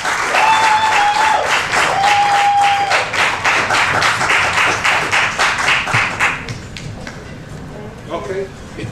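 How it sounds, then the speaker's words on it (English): An audience claps warmly for a speaker at a village gathering, a dense, loud burst of applause with a few voices calling out, holding steady for about six seconds before thinning to scattered claps. "Let's give her a round warm of applause."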